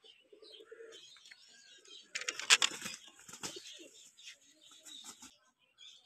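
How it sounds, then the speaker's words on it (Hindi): A pigeon beats its wings in a burst of loud, rapid flapping, with scattered chirps and cooing from pigeons around it before and after, close up and with no one talking. "अभी एक कबूतर गिर गया"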